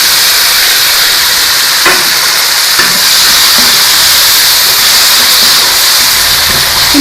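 Tomatoes hit a pan of browned onions and set off a loud, steady sizzle with a hissing, steam-like wash that runs unbroken and up close, with no talking.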